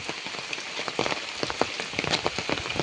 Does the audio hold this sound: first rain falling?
yes